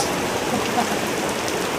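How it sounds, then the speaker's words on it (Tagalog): Heavy rain pours in a dense, steady, enveloping hiss with no breaks, loud and close, and no voices are heard over it. "Ang lakas ng ulan."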